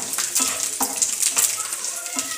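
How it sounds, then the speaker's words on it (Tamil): Two spoons of chana dal roasting in a pan while carrot kuzhi paniyaram is made, with a close, busy crackle and rhythmic stirring scrapes repeating throughout. "இப்போ ஒரு 2 ஸ்பூன் கடலைப்பருப்பு, இது கொஞ்சம் லேசாக ப்ரௌன் ஆகிற வரை கொஞ்சம் வறுத்துக்கலாம்"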